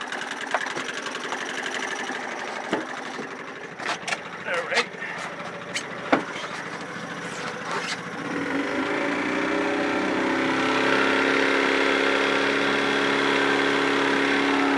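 Johnson outboard motor at wide open throttle, a steady buzzing engine drone that rises and holds loud after a few knocks and clatters, with a voice talking over it.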